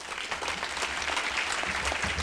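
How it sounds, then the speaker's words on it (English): An audience at a women's achievement awards luncheon applauds to welcome the keynote speaker, with dense, steady clapping filling the room from start to end. "Please give a warm welcome to our keynote speaker, Diana Pagano"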